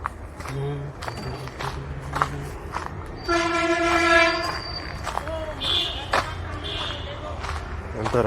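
A train passes near Alwal railway station in Hyderabad, its horn blaring for about two seconds and then giving shorter blasts over the rumbling, clattering wheels, with people talking nearby.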